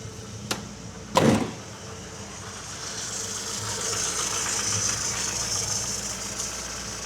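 A restored Mini 1275 GT engine idles steadily at close range, with a couple of sharp knocks or clunks near the start.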